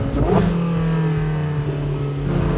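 A Porsche 918 Spyder hybrid supercar revs hard as it accelerates, a loud, close engine note with a rising pitch that shifts with fast gear changes and holds a strong steady drone.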